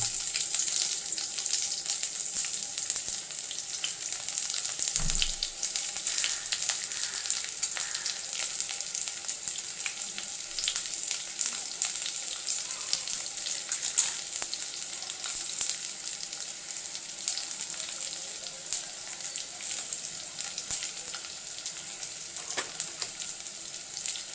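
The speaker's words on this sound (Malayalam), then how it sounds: "കടുക് പൊട്ടിക്ക് നമുക്ക് ഉള്ളി ഇട്ട് കൊടുക്കാം" Onions sizzling in hot oil after mustard seeds have popped, a steady dense frying hiss that runs throughout at close range, with a brief low clatter near the start and no talk.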